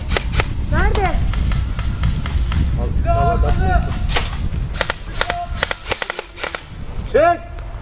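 Paintball guns fire in an outdoor paintball match, with sharp cracking shots going off singly and in quick bursts, some near and some farther off, amid shouting and talking players and rustling movement.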